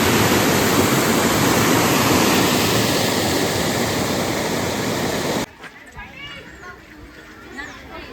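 A small, fast-flowing waterfall at Nehru Zoological Park in Hyderabad rushes loudly and close for about five seconds, then cuts off abruptly to quieter surroundings, with voices in the background.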